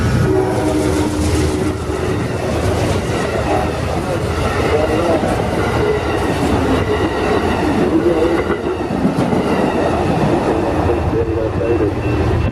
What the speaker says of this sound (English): We have Amtrak train 91 accelerating into Plant City.